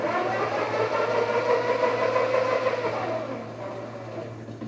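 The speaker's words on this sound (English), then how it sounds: "So there we got the motor spinning in one direction." The electric motor of a Pajero EV conversion spins in one direction, giving a steady mid-pitched whine with a low constant hum that eases off toward the end.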